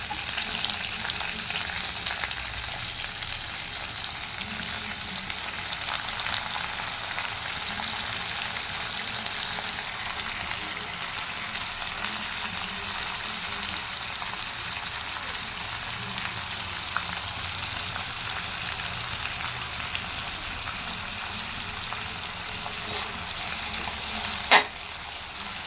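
Onions sizzle steadily in hot oil in a pan for a South Indian masala egg curry, a continuous bright crackling hiss at an even level throughout, with a single sharp click near the end.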